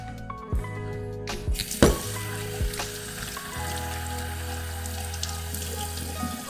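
Tap water runs into a film developing tank to rinse out X-tol developer. The stream is a steady splashing hiss with a few clanks and knocks of the tank near the start, and no one speaks.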